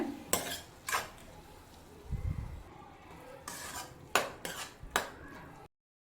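Tomatoes with salt being sautéed in a pan, with repeated sharp spatula scrapes and clinks against the metal over a low sizzle, spaced irregularly and close, then cutting to silence.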